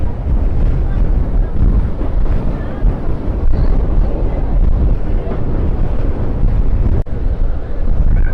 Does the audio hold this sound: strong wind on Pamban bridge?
yes